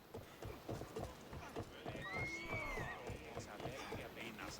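Horse hooves clip-clopping in a steady rhythm in Assassin's Creed Odyssey, with a clear whinny rising over the gallop midway, close and prominent, while someone talks over the game sound.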